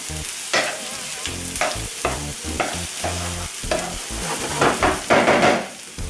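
Chopped onion fries in a skillet while being stirred, a steady sizzle cut by rhythmic scraping and knocking strokes of a utensil against the pan roughly every half second, close and fairly loud, without speech.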